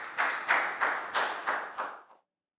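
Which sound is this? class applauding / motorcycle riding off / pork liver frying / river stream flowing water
class applauding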